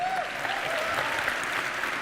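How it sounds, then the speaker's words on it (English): A live audience at a motivational talk on career advice breaks into dense, sustained applause close by, an even wash of clapping with no pauses. "See, you did it again. You clapped for yourself."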